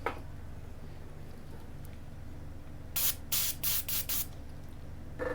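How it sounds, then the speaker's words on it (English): Several short blasts of compressed air hiss out in quick bursts while cleaning a MacBook, each spray sharp and close, separated by brief pauses over a quiet room background. "We'll try a blast of compressed air"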